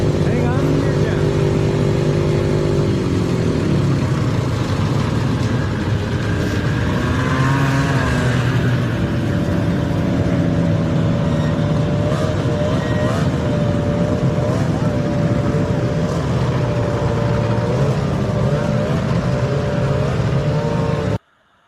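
Vintage snowmobiles rumble past in groups, their engines droning and rising in pitch as they go by, while people talk over the machines throughout.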